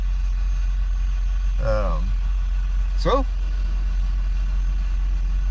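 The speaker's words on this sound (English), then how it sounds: "got the whole truck running" A truck nicknamed Fireball, with a newly fitted power steering pump and a makeshift exhaust, idles with a steady low engine hum throughout, while someone speaks briefly over it.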